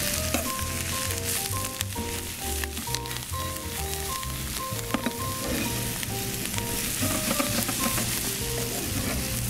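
Lion's mane mushroom and leeks sizzle in a hot pan for a potato mushroom hash: a continuous crackling sizzle under steady background music.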